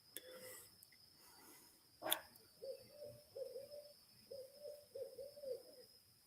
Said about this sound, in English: Can you hear that bird?